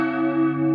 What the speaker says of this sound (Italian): state ascoltando il suono melodioso delle campane